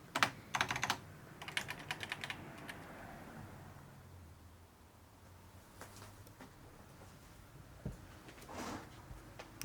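Mechanical keyboard typing in a cold, abandoned clothing-factory office: quick bursts of sharp clicks in the first seconds, then a quieter stretch with a few scattered taps over faint room noise.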